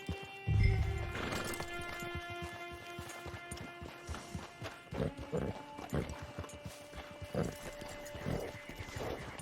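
Horse hooves clip-clopping in the Red Dead Redemption 2 video game, a run of fairly quiet, rhythmic hoof strikes set against a soft musical score, with an occasional louder thump.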